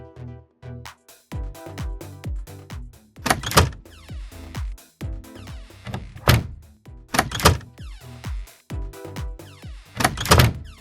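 A door in an Unreal Engine animation opens and closes repeatedly, with sliding mechanical swishes ending in sharp thunks at an uneven rhythm, clear and close, with no talking.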